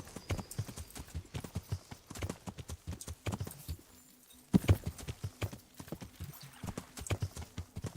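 Horse hooves clip-clop in a steady, rhythmic gallop throughout Kingdom Come: Deliverance, loud and close, with a brief lull midway before the hoofbeats resume.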